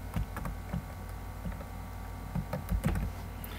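Light clicks of typing on a computer keyboard, an irregular run of soft taps in small clusters over a steady background hum.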